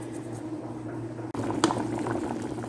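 Potatoes boiling in a pot for potato soup, a steady bubbling rumble with faint pops and a single lid or utensil knock partway through, quiet and close, no voices.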